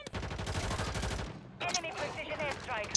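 Rapid automatic SMG fire from the video game Warzone 3, a dense burst of close shots for about a second and a half, then scattered in-game effects follow.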